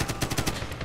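A quick burst of gunfire in the video game Medal of Honor, about six evenly spaced shots in under a second, close and punchy.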